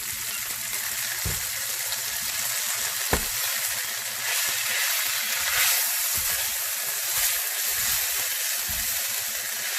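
Food frying in hot, overheated oil gives a steady, loud, close hiss and crackle that runs without a break, with a few faint low knocks beneath and no talk.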